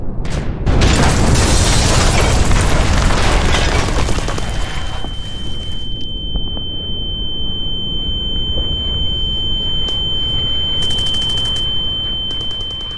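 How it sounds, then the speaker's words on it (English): A loud, broadband blast rumbles for several seconds, then fades into a steady high-pitched ringing tone that lingers to the end, like ears ringing after an explosion. "You didn't expect the ear ringing"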